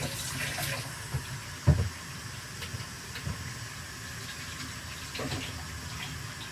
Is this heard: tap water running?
yes